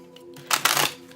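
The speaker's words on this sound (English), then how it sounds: "I did just flash as I shuffled the deck." A deck of tarot cards is shuffled in a quiet room, giving a short, close riffle of papery flutters that swells in the middle of the burst and then fades.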